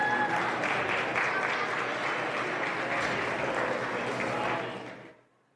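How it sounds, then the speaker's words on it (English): Steady applause from a crowd for livestock exhibitors at an annual achievement day show, a dense even patter of clapping that holds for several seconds and then fades out. "Let's give these exhibitors a round of applause."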